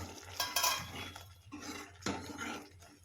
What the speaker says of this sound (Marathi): झाकण काढते मी